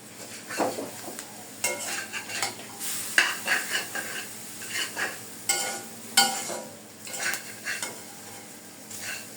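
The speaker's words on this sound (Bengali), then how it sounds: "নুডলসের সাথে সব একসাথে মিক্সড করে দিচ্ছি" Noodles are tossed together with scrambled egg and vegetables in a hot pan, with a soft sizzle beneath a series of irregular scraping strokes and clinks of a utensil against the metal, close and fairly quiet.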